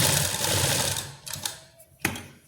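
A sewing machine stitches around a salwar belt in a fast, steady mechanical chatter that slows and stops, followed by a few sharp clicks and knocks.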